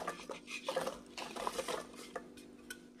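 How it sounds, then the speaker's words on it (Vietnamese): A spoon stirs thick French apple cake batter with chopped apples in a bowl, giving soft, irregular scraping and clinking taps close up. "Mình trộn cái hỗn hợp này lên."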